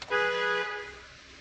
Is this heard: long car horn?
yes